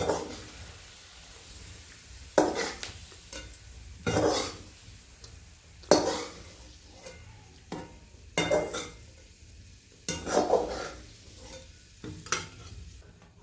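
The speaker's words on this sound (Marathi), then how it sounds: "तर त्याच तेलामध्ये टमाटे टाकून होते टमाटे लाल होते ते" Tomatoes fry in oil in a pan, a low steady sizzle broken by bursts of stirring and scraping with a utensil every couple of seconds. A soft cough or throat clearing is heard in places.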